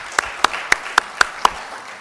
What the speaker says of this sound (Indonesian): kasih aplaus khusus nih, Jakarta Timur nih